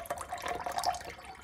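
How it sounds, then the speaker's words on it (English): Water pours steadily from a full glass carafe pitcher with a lid, a close, bright splashing stream lasting about a second before fading. "Now, to see how it pours, especially from being full."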